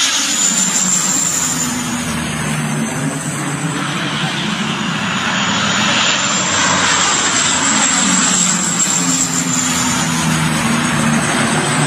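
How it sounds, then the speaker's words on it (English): A propeller airplane near a dirt runway drones loudly and steadily, its engine roar constant and close throughout with no talk. "These planes drop water on forest fire."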